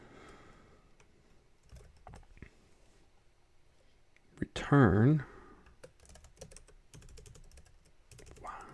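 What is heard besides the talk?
computer keyboard typing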